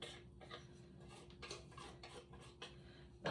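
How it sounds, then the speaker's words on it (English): A spoon scrapes and taps against a pot while cooking a roux-based fish chowder, quiet repeated metallic scrapes in an uneven rhythm with a faint steady hum behind. "I'm going to scrape off my spoon."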